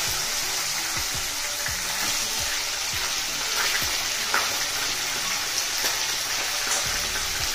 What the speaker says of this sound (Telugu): ఈ విధంగా కలదిప్పుతూ వేయించుకుందాం